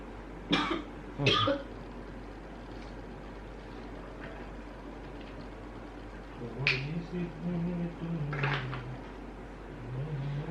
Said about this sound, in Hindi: खांसी क्यों आ रही?